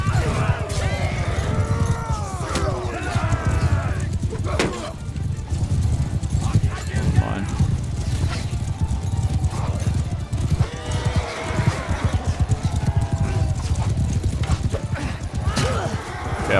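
In Mount and Blade II Bannerlord, horse hooves clip-clop at a gallop with repeated neighs over a noisy battle, while a voice talks throughout.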